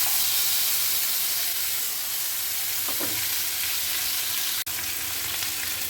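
Spices hit hot oil for a Bengali pabda fish curry with two tempering spices, a loud, continuous sizzle and hiss of frying close up, with a brief click near the end and no speech.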